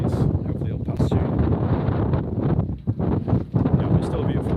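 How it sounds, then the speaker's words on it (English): Strong wind buffets the microphone on a choppy sea, a loud continuous rumbling roar with gusty surges and brief lulls, while a person talks over it. "it's just been blowing and choppy and windy"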